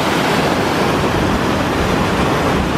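A waterfall near Mossy Cave pours with a loud, dense, unbroken rush of falling water that stays constant from start to end, with no one speaking.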